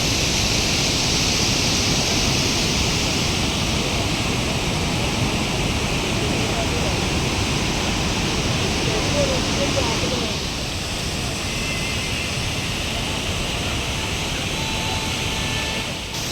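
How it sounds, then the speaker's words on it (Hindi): The Mandakini river rushes down from Bhimbali on the Himalayan trek route between Gaurikund and Kedarnath, a loud, steady broadband roar of fast water that fills the whole stretch without pause. "ये भीमबली से मंदाकिनी नदी नीचे आती हुई"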